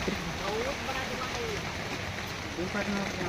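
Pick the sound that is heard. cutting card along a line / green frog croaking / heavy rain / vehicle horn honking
heavy rain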